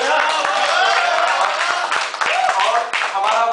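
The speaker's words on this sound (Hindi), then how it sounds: "तो आप अपने लिए एक बार जोरदार तालियां हो जाएगी।" Audience applause at a Hindi poetry recital, with dense, steady clapping from a crowd filling the whole stretch, sharp individual claps standing out near the mic.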